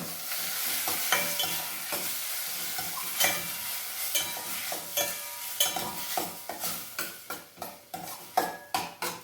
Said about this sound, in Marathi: कोळंबी घालते. आणि परतून घेते.